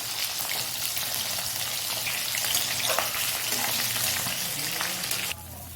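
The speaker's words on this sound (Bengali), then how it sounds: "মাছগুলো ভাজা হয়ে গেছে সব সুন্দর করে" Pieces of katla fish fry in hot oil in a pan, giving a loud, steady sizzle with crackling pops that drops off suddenly near the end.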